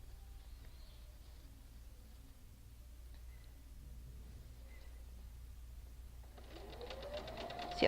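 A sewing machine chain-pieces quilt block pieces in a quiet room. It stays near silent at first, then a stitching run rises to a louder, buzzing burst at the very end.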